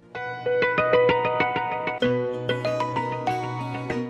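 A melodic electronic ringtone plays a quick pattern of bright repeating notes, loud and close, with no talking.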